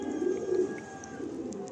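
Two female pigeons at a pigeon sale give soft, low rolling coos close by, a brief murmuring call over a quiet room with faint background chirps.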